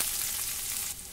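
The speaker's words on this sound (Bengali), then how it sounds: "আর দিলাম 1/2 চামচ রসুন পেস্ট, ভালো করে নাড়াচাড়া করে ভেজে নিলাম।" Garlic paste fries with onions in a pan for Bengali-style ghugni, giving a soft, steady sizzle that stays faint and even for a brief moment.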